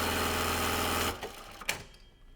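A sewing machine stitches a buttonhole on a precut shirt, its rapid, steady mechanical whir running loud and close for about a second before it stops, leaving quiet room tone.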